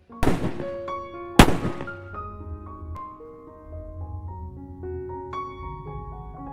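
Two sharp, loud gunshots in a film ring out about a second apart, followed by sustained tonal music playing softly.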